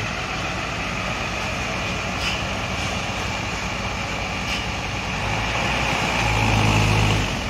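Steady, loud rumble of a front-mounted Hino AK diesel engine heard from inside a Family Raya coach, droning continuously with a low swell near the end and no talk.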